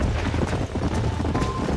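Horses clip-clop in a video game in a dense, steady patter of hooves that carries on loudly for the whole stretch, with no voices over it.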